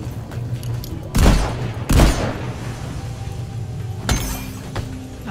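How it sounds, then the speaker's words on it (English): Sentry guns fire in Deep Rock Galactic, with a few loud, sharp bursts of automatic gunfire standing out over steady in-game background noise. "They will shoot for you if there's a monster in sight,"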